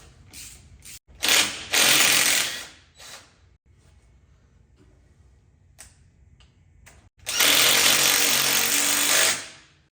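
Ratchet wrench loosening a bolt on a Chevy truck axle, in two fast bursts of rapid clicking near the mic, the first short and the second about two seconds long, separated by quieter handling noise.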